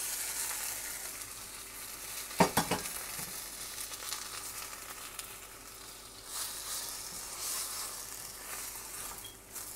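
Raw shrimp hit a hot frying pan with tomato for a sautéed shrimp dish, giving a steady close sizzle and hiss with a sharp clatter of stirring near the start and renewed bursts of frying later.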